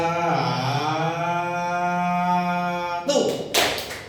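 A class plays a clapping game. A long drawn-out voice is followed by a short burst of a few sharp, close hand claps near the end.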